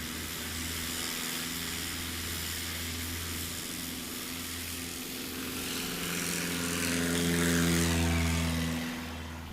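Propeller airplane taking off at a STOL competition at Patriot Airpark, a sustained engine and prop drone that swells louder toward the end, steady and moderately near, with no talk.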